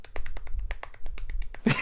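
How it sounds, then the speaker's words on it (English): Tiny rapid clapping sound effect from the Phoenix Wright: Ace Attorney video game, a quick run of about a dozen light, crisp taps at an even pace, ending in a brighter burst. "The tiny claps."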